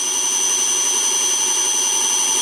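An upgraded PM727M milling machine motor runs steadily at 5000 RPM, giving a constant, loud, even whine with sustained tonal hum and no speech.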